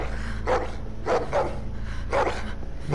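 Dog barking in The Walking Dead: The Final Season video game, several sharp barks at uneven intervals over steady low ambient rumble, fairly close and loud.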